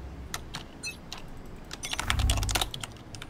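Rapid keystrokes clatter on a computer keyboard, clustered into short bursts with a denser, louder flurry near the end, close and clear with no talking over it.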